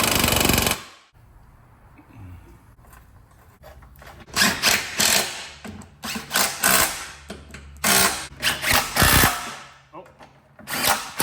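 An impact wrench fastens the bottom bolts of a rear strut on a 2007-2011 Honda CR-V, firing in several loud, short bursts separated by pauses, with a brief exclamation near the start.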